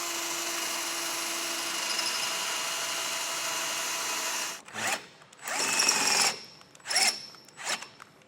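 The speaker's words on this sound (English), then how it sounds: "But we'll start drilling this out." A steady hum gives way to a power drill whirring in several short bursts, starting and stopping as it bores into a 2013 Mini Clubman for a base plate kit up close.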